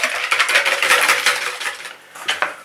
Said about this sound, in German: das Ei haben wir jetzt verrührt